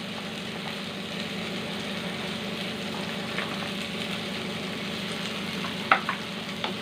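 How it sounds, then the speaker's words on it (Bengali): Boiled vegetables with sambar masala stirred in a hot pan, a steady low sizzle and scraping running throughout, close and even, with a sharp clink near the end. "এটাকে আমি নাড়লাম"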